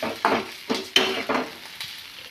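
Spice paste mixed with a little water and stirred in a pan while cooking elephant foot yam curry, giving a few scraping, sloshing strokes of the spoon in quick irregular bursts, close up.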